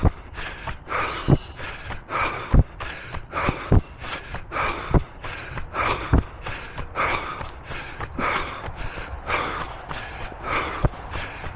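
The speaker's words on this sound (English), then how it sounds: "So breathing still controlled, but definitely starting to feel it." A runner's heavy, rhythmic breathing during a parkrun on a wet course with puddles, steady gasping breaths close up with regular footstep thuds throughout, no talking.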